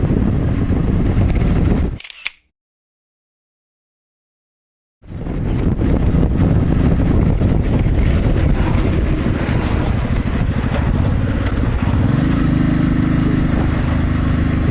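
A Honda motorcycle rides along a European road, loud wind roar and engine drone filling the sound, cut off by a few seconds of total silence before the rushing resumes, with no speech.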